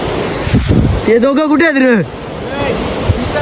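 A steady roar of rushing water fills the air at Chondhe waterfall near Shahapur, mixed with wind buffeting the microphone, while someone talks loudly over it.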